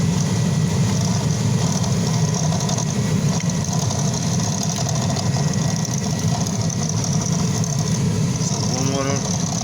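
Heater blower motor of a 2002 Jeep Grand Cherokee running, a loud constant whirring drone with a steady hum that holds unchanged throughout.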